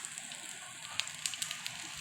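Bread bajji fries in hot oil with a soft, steady sizzling hiss and scattered crisp pops and crackles, heard close and fairly quiet.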